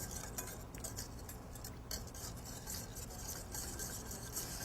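Oil being whisked into a sesame vinaigrette in a bowl, a fast continuous metallic ticking and scraping of the whisk, close and steady against a noisy background.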